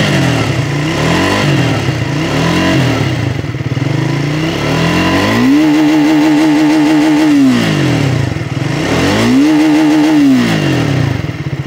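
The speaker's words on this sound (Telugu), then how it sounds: "ఎగ్జాస్ట్ సౌండ్ విన్నారు కదా." A 2024 Triumph Speed 400 motorcycle exhaust rumbles loudly and steadily up close, with two distinct rev rises and falls as the throttle is blipped, no talking over it.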